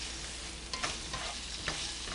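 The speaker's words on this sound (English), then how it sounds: "I'm kind of just stir frying the extra virgin olive oil" Extra virgin olive oil sizzles steadily in a pan during stir frying, with a couple of brief scraping stirs breaking through the constant close crackle.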